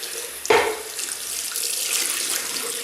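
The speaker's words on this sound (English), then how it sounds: "And now I will rinse that, and I'll show you. Let me just rinse it out." Shaving soap puck, a Williams mug soap, rinsed under a running sink tap: a steady close stream of water with a brief louder splash near the start as the soap goes under.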